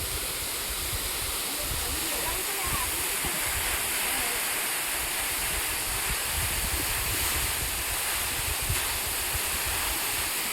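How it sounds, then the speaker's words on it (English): Meghalaya waterfall with water pouring off a cliff edge, a constant dense roar and hiss, close and loud, unbroken for the whole stretch. "sound of the water falling down off the edge of the cliff relaxes your ears and your mind and your health"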